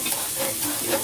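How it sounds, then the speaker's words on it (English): Onions frying and browning in a pan for shrimp fried rice give a steady, close sizzle with soft stirring scrapes, continuous and even throughout with no talking. "I like to see my onions a little not burnt, but a little brown on them"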